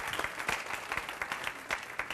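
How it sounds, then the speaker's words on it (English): Applause from a seated audience at an organization's event honoring sponsors, a steady wash of many hands clapping, moderately distant and fairly quiet, with no talking over it. "Let's give them a round of applause."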